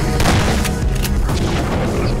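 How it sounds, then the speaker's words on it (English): Shotgun blasts against a zombie in Nightmare House 2: loud, close booming shots, several sharp bursts in quick succession over a heavy rumbling background. "Zombie versus shotgun. Shotgun always wins."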